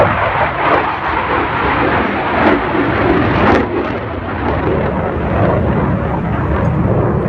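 Jet fighter roaring overhead at an air show, a loud, steady broadband rumble with a slight swelling and fading as it passes, no voices.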